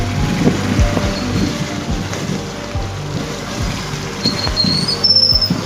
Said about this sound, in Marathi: इकडे गाडी चालवतोय